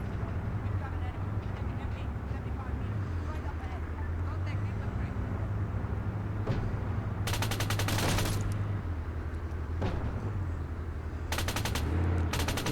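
Tank machine gun firing at infantry in ARMA 3, with bursts of rapid automatic fire over a heavy, constant engine rumble and wind, some shots close and sharp, others more distant.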